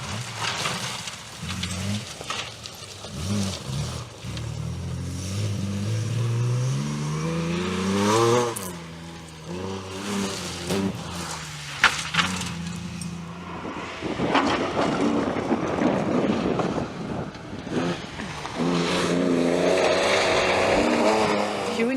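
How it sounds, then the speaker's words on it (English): A Datsun 240Z rally car on a historic rally stage, its engine revving hard and rising through the gears with sweeping pitch climbs, gear-change dips and a loud close pass, fairly near and steady for most of the run. "Duncan Piercy and Andy Ballantyne in a Datsun 240Z."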